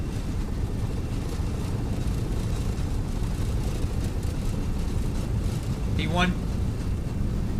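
Airliner engines at takeoff thrust in the X-Plane 12 flight simulator give a steady, loud broadband roar throughout, with a brief spoken callout near the end.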